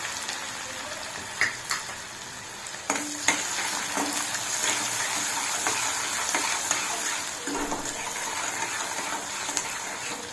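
Onion fries in ghee in a pan while preparing rava upma, a continuous close sizzle with occasional sharp spatula clicks and stirring scrapes, steady throughout and with no talking.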